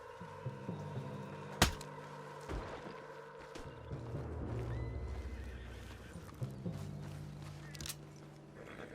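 A horse in the Red Dead Redemption 2 video game neighs sharply once, with hooves clip-clopping and faint ambient noise around it, all fairly quiet.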